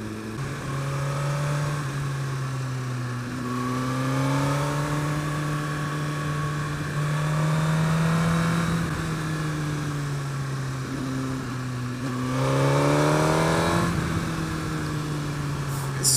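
A Suzuki GSX-R1000R motorcycle engine drones steadily as it accelerates, its pitch climbing and then dropping with each quick-shifted gear change, including shifts made low in the rev range.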